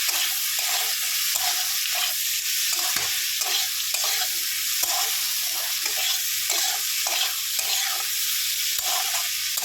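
Ingredients frying in melted butter for mutton curry, giving a dense, constant sizzle close up, with rhythmic scraping and stirring strokes repeating throughout.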